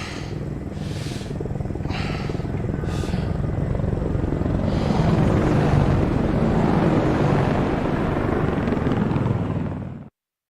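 Apache helicopters fly steadily in the video game Ace Combat Assault Horizon, a loud, continuous rotor and engine roar with a few rhythmic whooshes early on, cutting off abruptly near the end.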